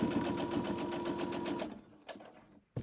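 A sewing machine stitches tiny micro fabric scraps into a crumb quilt block in a fast, even run of needle thumps, then stops abruptly, leaving a few sharp clicks and handling noises.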